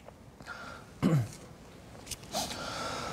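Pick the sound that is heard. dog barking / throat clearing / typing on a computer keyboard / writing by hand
throat clearing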